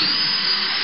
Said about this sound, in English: Again, you'll drill some pilot holes.